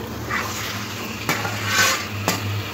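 Marinated chicken going into hot spice masala for chicken kosha, stirred in the pan; a close, loud sizzle swells as the chicken lands, with a couple of sharp utensil knocks and scraping strokes.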